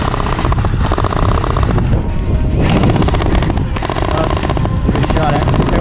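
Airsoft guns fire in rapid bursts and single sharp pops during an outdoor game at Freedom Airsoft, with shots from behind a dirt mound mixed into steady background noise and player voices.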